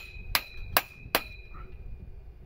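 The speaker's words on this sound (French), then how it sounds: "un petit coup de marteau sur la bague" A hammer strikes a metal ring three times as it is seated on a metal tube while a tunnel shelter's tubular frame is assembled, giving sharp evenly spaced ringing taps with a clear metallic tone that lingers briefly.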